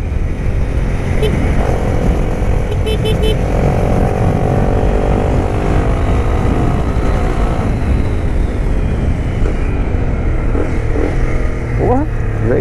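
A Honda CBR 250R motorcycle fitted with an Akrapovic exhaust tip runs with a loud, continuous engine drone and rumble that stays near and steady throughout.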